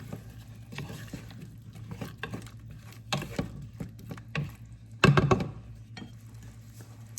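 Seasoning being stirred into vegetables sizzling in a pan, with repeated scraping strokes of a utensil, a louder clatter near the end, close and without talk.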